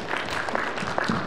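Applause from a convention audience at the Ushicon 2024 closing ceremony, a dense, steady wash of clapping held at even loudness for about a second, with no voices.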